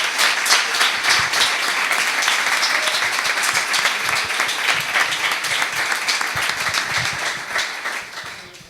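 An audience at a talk applauds a gold medal winner with dense, continuous clapping that holds steady for several seconds, then tapers off near the end.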